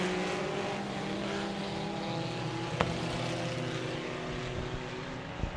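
Race cars circle an oval track, their engines a continuous droning roar with steady tone and only small swells as the field runs single file.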